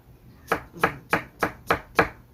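Six evenly spaced knife chops on a cutting board, close and crisp, slicing ingredients into thin strips for perilla leaf kimchi, with no talking.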